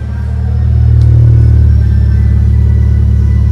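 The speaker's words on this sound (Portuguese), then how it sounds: "Liguei ele e se liga na ressonância que nós temos aqui no escapamento." A 2023 Fiat Pulse Abarth idles close by, its engine running steadily with a deep, resonant exhaust rumble that swells slightly early on and then holds a constant low drone.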